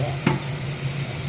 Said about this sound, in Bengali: ধনে গুঁড়ো, জিরে গুঁড়ো, হলুদ গুঁড়ো, লঙ্কার গুঁড়ো নিয়ে এবারে এটাকে জল দিয়ে